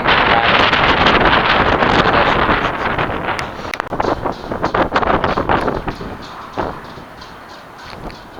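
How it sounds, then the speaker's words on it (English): A pole teeters and strains in strong wind beside broken trees, making a creaking, rattling noise under heavy roaring wind buffeting the microphone, which eases slightly toward the end. "That sound is actually that pole teetering."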